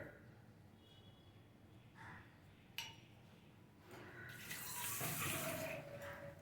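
Water runs from a tap into a vessel for boiling toor dal and bottle gourd, faint at first and growing louder and fuller, with a brief clink partway through.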